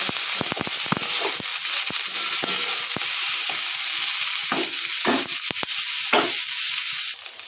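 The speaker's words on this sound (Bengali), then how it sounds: "দিয়ে এবার আমি ভাজতে থাকবো" Onion and capsicum for chilli chicken frying in a pan, a steady close sizzle with scattered stirring scrapes and clicks throughout, no voices.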